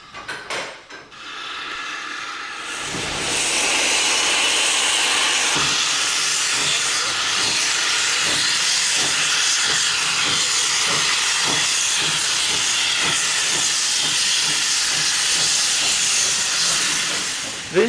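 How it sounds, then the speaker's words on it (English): Caledonian Railway steam locomotive No. 419 standing at a bay platform ready to leave, releasing a loud, continuous steam hiss that rises after a quiet start and holds steady. "Number 419 has now moved up from the water column and is ready to leave from the bay platform."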